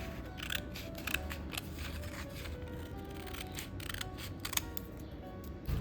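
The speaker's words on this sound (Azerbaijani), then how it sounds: "Kəsdim vərəqlərimi." Scissors snip through paper sheets in a steady run of crisp, close cuts with short pauses between them, set against a soft background hum and no talking.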